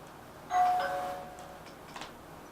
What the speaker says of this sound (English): we're going to do doorbell sounds